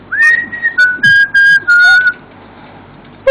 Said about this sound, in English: Give a little whistle.